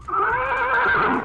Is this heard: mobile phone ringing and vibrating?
no